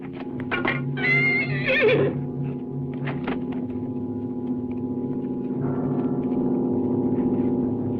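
Horses neigh in a film battle-camp scene, a loud near whinny with a rising, quavering call early on, then shorter snorts and calls over a steady low droning background, with no talking.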